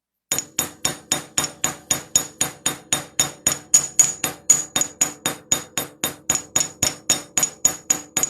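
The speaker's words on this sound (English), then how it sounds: "I'm going to hit the arc of this hook here with the ball peen end of my hammer" A ball peen hammer strikes a chainmaille wire hook in a fast, even series of sharp metallic taps, about thirty ringing blows close up with no talk.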